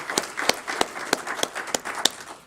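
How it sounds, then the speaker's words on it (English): A few people clap slowly for award recipients at a mayor's employee recognition ceremony, with about eight sparse, distinct claps spaced evenly and fading out, and no other sound over them. "So let's have a round of applause for those individuals."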